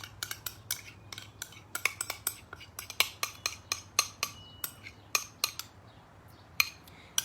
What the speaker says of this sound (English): So we are first going to mix our ingredients together.